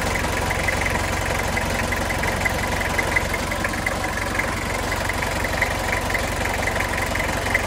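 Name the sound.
diesel car engine idling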